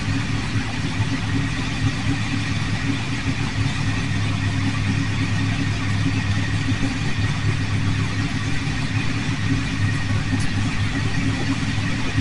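Monster truck engines idle at an outdoor monster truck show, giving a loud, steady, close engine rumble that holds unchanged for the whole stretch with no talking over it.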